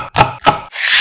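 A knife chops through a green onion on a cutting board in three quick, close, crisp strokes, alone and clearly audible.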